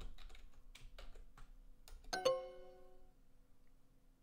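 An answer is typed on a keyboard during a Duolingo English lesson: a quick run of close, crisp keystrokes, then a bright chime that rings out and fades over a quiet background.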